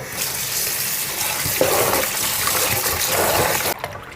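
Chicken wings being rinsed under running water in a home kitchen while preparing fried wings, a steady close splashing gush that runs continuously and cuts off abruptly near the end.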